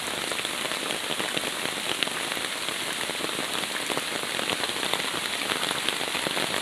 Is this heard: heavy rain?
yes